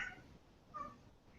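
A cat meows twice, faint and distant, with short wavering calls at the start and middle over low room noise.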